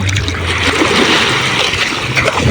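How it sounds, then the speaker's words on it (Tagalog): Strong waves rushing onto a fine-sand Boracay beach at night, a loud, constant roar of surf and splashing water close by, with no clear speech over it. "Malakas na yung alon, agos, alon niya."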